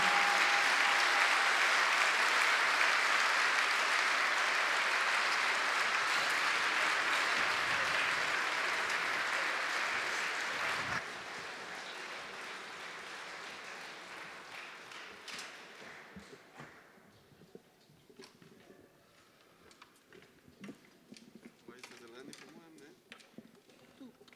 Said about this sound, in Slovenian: Pospremimo jih z velikim aplavzom.